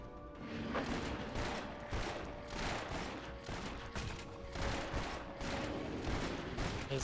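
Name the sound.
explosions in Torchlight 2 video game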